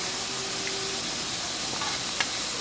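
Vegetables, peas and chicken sauté in a pan for bread cone samosa stuffing, giving a steady, even sizzle and hiss with a few faint stirring clicks near the end.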